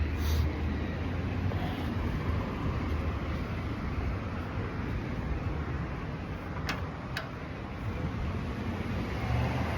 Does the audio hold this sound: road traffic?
yes